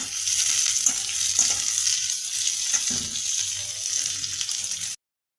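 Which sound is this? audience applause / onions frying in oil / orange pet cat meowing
onions frying in oil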